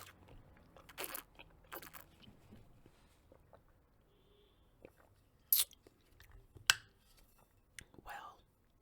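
Someone eats a McDonald's McCrispy chicken sandwich up close in a quiet room: scattered crisp bites and soft chewing, with a few sharper crunches and faint mouth sounds between them.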